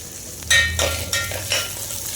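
Coriander seeds, cumin and mustard seeds frying in a pan for veg biryani, a steady close sizzle with a few brighter bursts of crackle and stirring scrapes, no voices.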